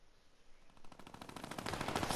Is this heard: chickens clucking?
no